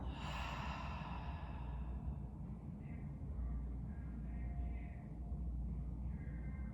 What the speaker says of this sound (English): Nice deep inhale. And exhale.